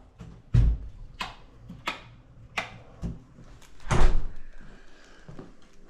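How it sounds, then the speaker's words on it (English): Someone knocks on a door at a tenant's house, about six sharp, loud raps in an uneven rhythm heard close by, with no voices. "Knock, knock."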